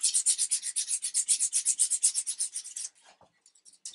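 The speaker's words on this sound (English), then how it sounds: "Just sand away." A wooden gun stock being sanded by hand with 320-grit aluminium oxide sandpaper: quick, even back-and-forth rasping strokes, close and fairly loud, run for about three seconds before stopping, followed by a few faint scrapes.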